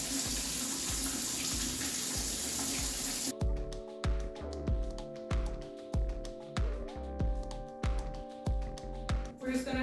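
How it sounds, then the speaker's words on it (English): Whole green lentils and split chickpeas rinsed under a running kitchen tap, a steady rushing stream for about three seconds, then broken splashing and swishing pulses as the grains are swirled by hand, with brief speech over it. "So we're just going to rinse this thoroughly and add it into the pressure cooker."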